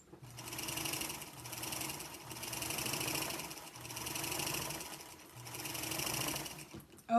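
A Featherweight sewing machine runs a seam in several bursts, its fast even hum swelling and fading in about four runs with short pauses between, fairly quiet and close, with no talk.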